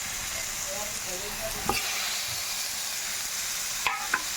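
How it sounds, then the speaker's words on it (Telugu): Spinach and tomato pieces fry in oil, a steady sizzling hiss throughout with a few sharp scrapes and clinks of stirring. "ఇప్పుడు మనం ఇందులో కట్ చేసుకున్న టమాటా ముక్కలు వేసుకుందామండి."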